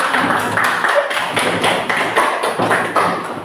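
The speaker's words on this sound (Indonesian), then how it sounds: "Ya, berikan aplaus untuk teman-teman." A classroom audience at an Indonesian teacher certification session claps together in a loud, steady, rhythmic burst of repeated hand slaps.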